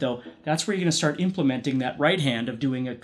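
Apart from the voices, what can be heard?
None of the usual background noises is heard.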